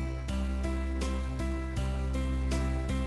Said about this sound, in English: Hear the piano?